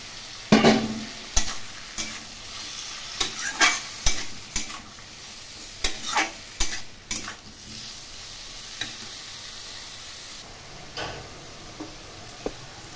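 Potatoes being stirred with salt and turmeric in a frying pan for a Bengali prawn and pointed gourd curry, with irregular scraping clinks of the spoon over a soft sizzle, close and moderately loud, no talking.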